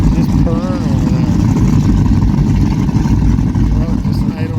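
A motorboat engine idles on a lake near Bobcaygeon, Canada, a loud, steady low rumble that fills the whole stretch, with wind and water noise and a voice speaking over it.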